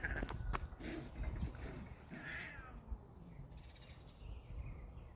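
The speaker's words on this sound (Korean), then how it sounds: "저기 고양이들이 있어요." Street cats squabbling across the road, with sharp yowls and hissing bursts early on that fade into quieter scuffling over steady outdoor background noise.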